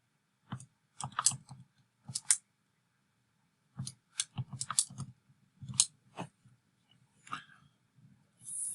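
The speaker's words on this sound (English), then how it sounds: "Type that in real quick." A calculator has numbers typed into it for a law of sines problem, giving clusters of crisp, close button clicks in quick irregular runs, with a pause partway through and no talking.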